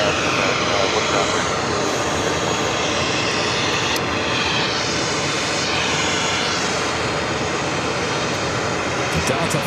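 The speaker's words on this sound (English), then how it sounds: "Delta flight landing on the 22 left, coming in from Rome." Delta Airlines Airbus A330-300 jet arriving from Rome on runway 22 Left at JFK, a steady loud engine roar that holds throughout with broadband rumble and faint sweeping whine, airport radio chatter audible underneath.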